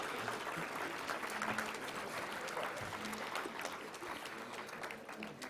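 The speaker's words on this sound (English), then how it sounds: "Let's give a big round of applause" Steady applause from a large conference audience at a global food regulators summit, a dense even patter of many hands lasting several seconds at moderate distance, with no talking over it.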